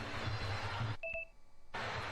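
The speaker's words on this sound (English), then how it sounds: "Beep beep. That's our end of round timer." An electronic end-of-round timer at a live fight event gives two short high beeps in quick succession, cutting briefly through the loud, continuous arena crowd noise.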